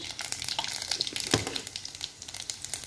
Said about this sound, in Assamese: কেৰাহীত তেল গৰম হ'ল কেইটামান পাঁচফোৰণ দি দিছোঁ